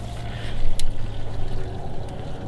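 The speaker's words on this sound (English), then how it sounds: "Somewhere in this car, water is draining." Water trickling and draining somewhere inside a Nissan S14, a soft continuous pouring and dribbling close by, with a brief sharper splash partway through and no talking.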